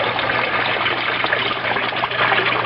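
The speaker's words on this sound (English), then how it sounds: "the aquaponic bed with the clay pellets in it drains, as you can see there, into the main fish tank" Water drains from an aquaponic bed of clay pellets into the main fish tank, making a steady, close trickling and gushing rush that continues without a break.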